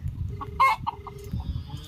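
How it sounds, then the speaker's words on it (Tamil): Roosters and hens kept at a house give a short burst of clucking and a brief crowing call, nearby and moderately loud, over faint low background noise. "சேவல் கோழி எல்லாம் அவங்க அம்மா வளர்க்குறாங்க"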